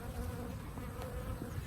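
Honeybees swarm densely around a hive during a honey harvest, their continuous buzzing hum close and steady, filling the air without pause.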